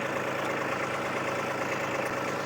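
A Kubota B2601 compact tractor runs steadily in low gear and four-wheel drive while grading dirt, its engine giving a constant close drone with no change in pitch and no voices.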